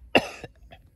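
One short, sharp cough close by, followed by a fainter second throat sound, outdoors in a durian orchard during rainy weather.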